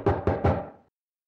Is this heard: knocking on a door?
yes